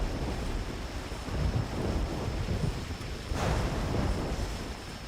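Steady rain falls in theHunter Classic during a Summer Fiesta hunting event, a dense broadband wash that holds constant for several seconds, with no talk over it.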